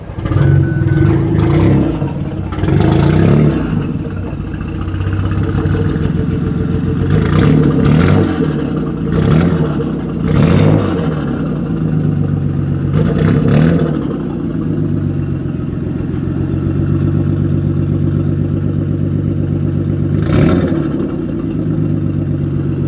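A car engine runs steadily for the whole stretch, with several revs rising and falling over the continuous idle.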